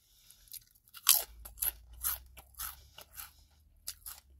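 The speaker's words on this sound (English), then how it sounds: "Really nice crunch." Kettle Brand Backyard Barbeque kettle-cooked potato chips are crunched close to the microphone, with a string of crisp bites and chewing crackles at an uneven rhythm over a low hum.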